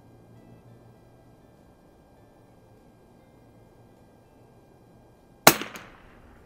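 A single sharp rifle shot from an Anschutz 64mp cracks out near the end after several seconds of quiet, followed by a brief decaying echo.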